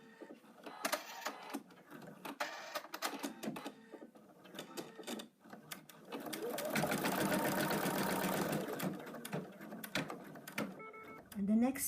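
An embroidery sewing machine stitches the arm of a frog design, its buzzing needle bursts starting and stopping, then settling into a steadier run; a person talks over the first part.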